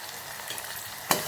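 Spices stirred into a pan of frying vegetables for dal bati, a soft steady sizzle with light scraping and one brief louder clatter near the end.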